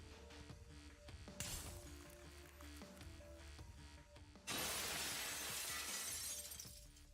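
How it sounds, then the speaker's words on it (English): A quantum shatter tearing open empty space in the video game Honkai Impact: a loud, sustained crashing burst like breaking glass that surges in midway and holds, over a quieter layer of game music. "Caused a quantum shatter, the empty space before Kiana shattered, revealing an entrance to another world"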